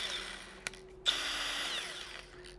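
A Milwaukee low-speed tire buffer fitted with a Steelman wheel whirs at a steady high pitch, briefly cutting out and restarting with a short click, close and alone.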